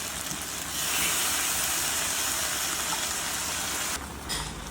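Steady, loud sizzle of fenugreek leaves hitting a hot pan with mutton, tomato and ginger garlic paste, a continuous close hiss that dips briefly near the end.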